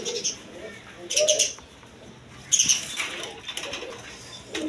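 Domestic pigeons in a sale loft, including Rajgolla hens, give wing flaps in two short bursts and soft calls, close by, amid low background noise.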